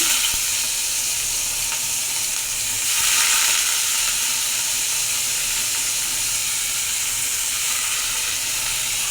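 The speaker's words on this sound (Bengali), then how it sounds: "আমি কড়াইতে তেল ছেড়ে দিলাম তেল গরম হয়ে গেছে আমি এর মধ্যে পেঁয়াজ ছেড়ে দিচ্ছি" Onions fry in hot oil in a wok, giving a continuous close sizzle that swells briefly near the start and then settles into an even hiss, with no voices.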